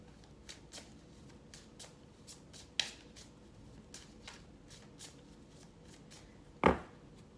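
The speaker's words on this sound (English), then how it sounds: "let me just shuffle the cards" A deck of oracle cards is shuffled by hand in a quiet room, giving a steady run of soft riffling flicks. Two sharper, louder snaps of cards stand out partway through and near the end.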